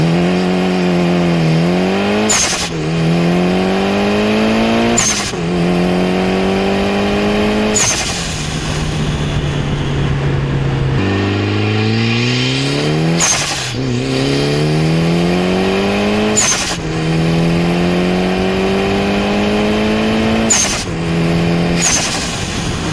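A rare Mitsubishi Evo 6 Tommi Makinen drives along B roads. The engine revs loudly and repeatedly climbs through the gears with sharp shift breaks, then settles into steady cruising before accelerating hard again. The car is heard alone, with no talk.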